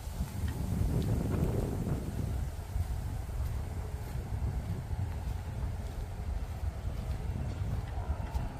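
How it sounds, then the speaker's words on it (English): Strong gusty wind buffets the microphone outdoors in South Carolina just after Hurricane Helene, a continuous low roar that swells near the start and then holds steady. "Still windy, guys. But no more rain."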